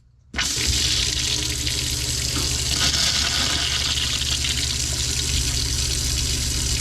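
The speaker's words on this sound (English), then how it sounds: "Turn the water back on at those valves and give it a test." A repaired Delta kitchen faucet runs steadily after the supply valves are turned back on, a loud, close, continuous rush of tap water splashing into the sink, starting abruptly and holding without pause.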